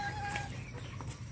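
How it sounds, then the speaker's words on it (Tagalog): Chickens cluck softly on a small farm in the fresh countryside air, a brief, fairly quiet burst of fowl calls over a steady low background with no talking. "Katulad po ng mga manok, makita mo yan"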